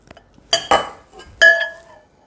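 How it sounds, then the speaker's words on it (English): Beaten eggs for pumpkin pie filling being poured and scraped from a bowl, with a few sharp clinks of utensil against dish, close and fairly loud, and a faint voice briefly underneath. "the eggs you just beat"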